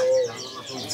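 A caged female magpie robin calls at a bird market, a short sharp whistled note followed by softer chirps, with background noise around it.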